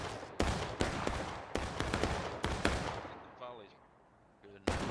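Musket volleys crack out in a War of Rights drill, a ragged run of loud, sharp reports that each roll off quickly, followed by someone talking over a quieter stretch and one last shot.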